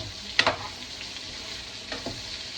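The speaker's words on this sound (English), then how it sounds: "I'm going to go ahead and drop my lobster tail. Let that cook" Lobster tail dropped into a hot skillet for a seafood boil, giving a steady hiss of frying with a couple of sharp spattering bursts near the start and again later.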